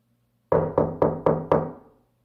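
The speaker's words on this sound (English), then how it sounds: "Wow, they're really knocking." Five rapid, evenly spaced knocks pound on a door, heavy and close, each ringing briefly before the next, with the last one fading out in silence.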